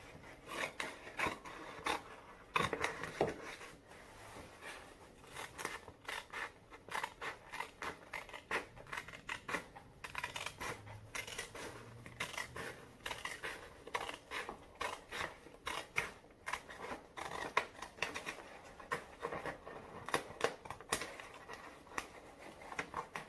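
Scissors snip steadily through material while upcycling a lamp, producing rapid, close, fairly quiet cuts in an uneven rhythm with no talk.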